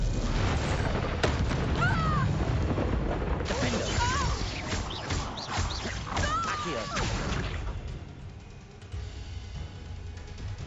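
A Confringo blasting spell erupts with booming, crashing impacts amid chaotic combat in a Hogwarts video game, with voices and spell effects over it before the noise fades.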